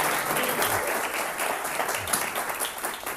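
Dense, steady applause from an audience at a lecture on economics, many hands clapping together at full strength throughout without a break.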